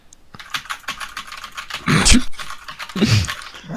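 Computer keyboard typing close to the microphone, rapid irregular clacking keystrokes with a couple of heavier bursts of pounded keys, with no talking.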